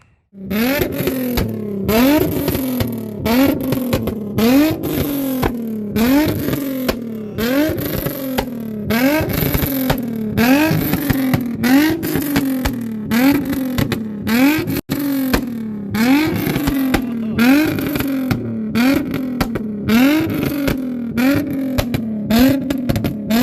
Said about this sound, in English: so you guys could have an idea of what this exhaust system sounds like